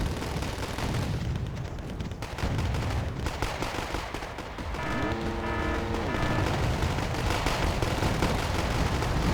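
Mortar rounds pounding a town in the strategy game Wargame: Airland Battle, loud repeated blasts and rumbling impacts layered into a dense barrage, with a rising mechanical whine partway through.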